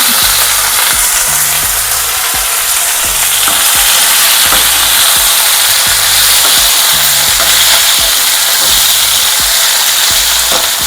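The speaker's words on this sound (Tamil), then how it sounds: "கத்திரிக்காய் கட் பண்ணி வச்சுருந்தோம்ல அதை சேர்த்துருவோம்" Sliced eggplant for a Karnataka-style biryani fries loudly in hot oil and is stirred in a pan, with a continuous close sizzle and repeated scraping stir strokes and no talking.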